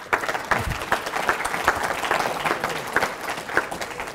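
Lecture audience at the Bradford Development Lecture for economist Ha-Joon Chang keeps up a sustained round of clapping, individual claps standing out in an uneven, moderately loud patter.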